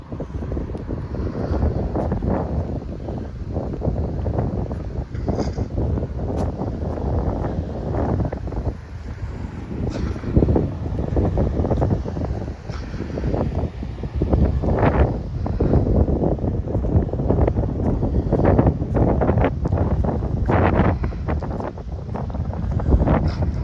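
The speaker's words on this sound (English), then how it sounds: "Yeah, it is breezy up here today." Strong wind buffets the microphone on an exposed hilltop during a walk, a constant loud roar with gusty surges throughout and no voices.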